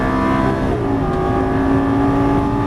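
A Lamborghini Gallardo pulling hard at full throttle after an upshift, its engine note a loud, steady, rising drone heard close up from the cabin.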